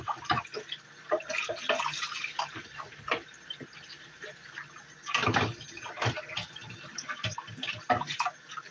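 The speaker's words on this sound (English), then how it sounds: "I'm just rinsing out the machine." Water splashes and drips while a juicer machine is rinsed out, irregular sloshing and trickling bursts at close range, fairly quiet, with faint background sounds.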